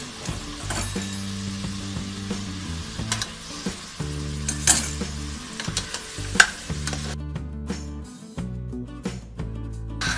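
Mutton pieces sizzle loudly in hot ghee with whole spices, the frying hiss punctuated by stirring scrapes and clinks of a spoon against the pot, continuous and close with a brief quieter stretch near the end.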